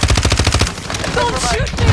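Rapid automatic gunfire in the video game Warzone Mobile, a quick rhythmic burst of shots up front that gives way to softer game sounds and a brief voice.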